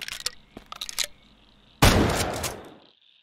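A single loud gunshot rings out in the horror video game The WhiteTail Incident, a sharp blast with a long noisy tail, preceded by a few faint clicks and thuds.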